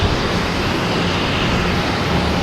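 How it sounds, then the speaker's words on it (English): A Boutique Air propeller plane landing at Boston Logan Airport gives off a loud, steady, broadband engine roar that stays constant throughout, with no voices over it. "I hear a prop plane, but I don't see a prop plane making that much noise"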